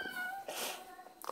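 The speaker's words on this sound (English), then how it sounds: "Oh, it's my cat." A pet cat meows a few times indoors, short close calls with a brief rising cry near the end, amid light household background noise.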